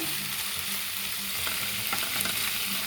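Brinjal with garlic and fenugreek powder sizzles and fries steadily in a pan for an aloo brinjal curry, a dense close hiss with faint stirring taps and no voices.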